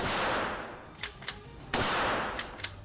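Gunshots crack out at a shooting range inside a gun shop, roughly five sharp reports spaced irregularly over a couple of seconds, heard at moderate distance over a hissing background.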